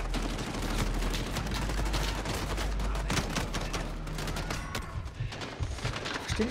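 Gunfire in the video game Call of Duty Modern Warfare, a dense, sustained volley of rapid shots and bursts, loud and continuous, thinning slightly toward the end.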